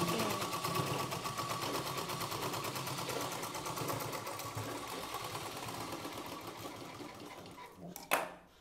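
A sewing machine stitching a blouse runs in a continuous fast rattling whir at moderate level, then stops near the end with a brief clunk.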